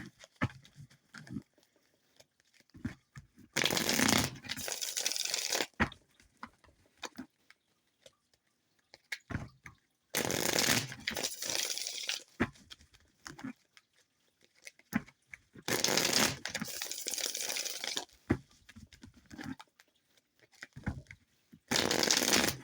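A tarot deck shuffled for a love reading, three long, loud, close bursts of riffling and overhand shuffling, separated by quieter stretches of soft card handling and taps.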